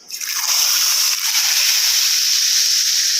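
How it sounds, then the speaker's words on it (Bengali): Hot ghee with white cumin seeds and dried chillies hits a pot of dal and sizzles loudly. A sharp hiss rises quickly and holds as a steady, bright crackle. "ঘিয়ের মধ্যে সাদা জিরে আর শুকনো লঙ্কা ভালো করে তাতিয়ে নিয়ে এটাকে ফোড়নে দিয়ে দিলাম"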